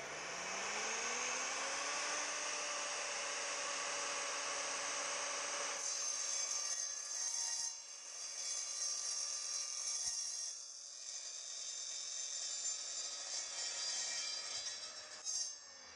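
Power saw cutting 40 mm square steel tube with a 2 mm wall, a loud continuous whine that climbs in pitch as the motor spins up, then a harsh steady grinding rasp through the metal for about fifteen seconds.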